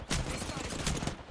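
Rapid gunfire in Apex Legends rattles as a dense volley of shots, several sharp bursts packed into just over a second, loud and near.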